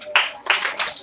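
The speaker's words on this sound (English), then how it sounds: "Everybody give him a clap." A classroom of students claps for a classmate, a quick ragged burst of close hand claps in several uneven waves.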